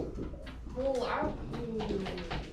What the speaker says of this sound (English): that's a different bird.